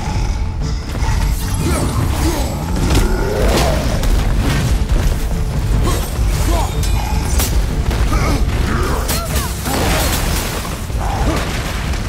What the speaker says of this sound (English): Okay, so those explode